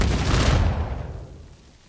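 Gunfire hits an explosive barrel in Uncharted 4, giving a loud, dense blast that rolls and fades away over about a second, with no talking.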